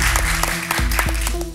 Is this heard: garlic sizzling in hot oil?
no